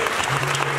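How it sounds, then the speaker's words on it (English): Steady applause from a church congregation, dense clapping filling the short moment at an even, fairly loud level. "Please clap for her."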